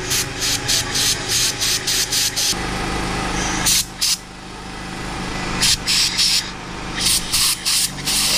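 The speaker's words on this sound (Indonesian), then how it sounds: "setelah saya semprot pakai kompresor" An air compressor blows bursts of air onto the gimbal of a DJI Mavic Pro drone under repair, giving a series of short, loud hissing spurts separated by brief pauses, with a steadier stretch of rushing air in the middle.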